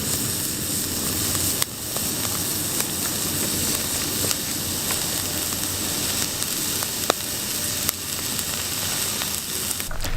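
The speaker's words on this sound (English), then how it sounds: "You can hear that sizzling." Steady, loud sizzling of meat cooking over an open fire, a continuous crackling hiss with occasional sharp pops, no voices.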